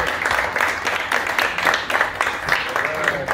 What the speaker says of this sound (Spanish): Muchas gracias por estos aplausos.